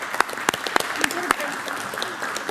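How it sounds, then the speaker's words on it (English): Scattered applause at a city council meeting, with a few sharp, distinct claps standing out from a thinner patter of hands, fairly close and moderately loud, fading toward the end. "I think we ought to give these girls a round of applause,"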